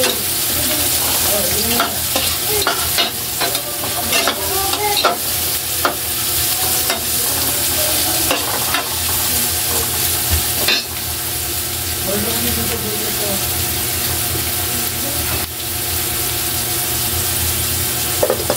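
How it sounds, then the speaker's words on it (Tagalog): Chopped onion sizzles steadily in a hot frying pan on a home stove while being stirred, with scraping and clinking of the spatula against the pan, close and continuous throughout, while preparing chicken tinola. "Lagyan natin ang sibuyas."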